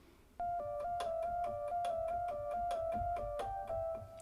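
A ringing synth tone on a Roland JD-Xi holds a steady bright pitch with a faint bell-like shimmer, layered over a quick repeating percussive pulse, quiet and alone without talk.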